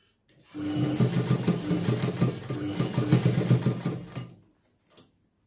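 Sewing machine stitching a blouse sleeve with beads, a single continuous run of rapid mechanical stitching lasting about four seconds, close and fairly loud, starting and stopping abruptly with a brief tap afterward.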